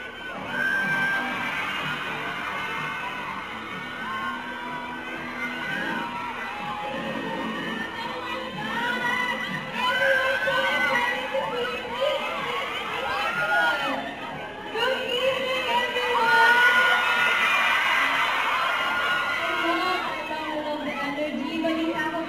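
A large crowd at a drag summit screams, whoops and cheers continuously, a dense roar of many voices rising in waves, with chatter and shouts layered throughout.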